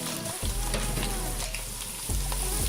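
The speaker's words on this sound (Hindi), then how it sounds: "अब हम इसमें ऐड करते हैं प्याज।" Chopped onions dropped into half a cup of hot oil sizzle and crackle loudly and continuously, with a couple of stirring scrapes, while ground-beef bhuna qeema is cooked in a home kitchen.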